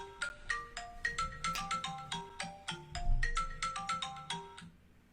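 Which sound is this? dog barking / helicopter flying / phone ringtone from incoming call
phone ringtone from incoming call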